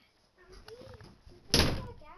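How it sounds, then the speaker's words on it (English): A door is pushed shut with a solid thud near the end, preceded by soft shuffling and a person talking in the room. "Can you not shut a fucking door?"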